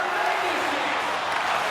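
Brief burst of crowd noise at an IIHF ice hockey game in Czechia, a steady arena roar at even loudness.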